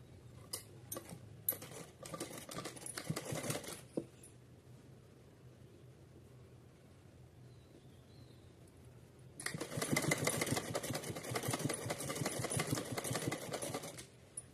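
A sewing machine stitches a doll's dress for a Kanha ji outfit, running in a dense mechanical whir for about four seconds, pausing in near quiet, then starting again louder and steady for several more seconds.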